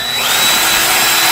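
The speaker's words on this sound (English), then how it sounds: "you need to drill another hole" A power drill bores a hole through a plastic bucket lid, a loud, steady high-pitched whine that runs continuously up close.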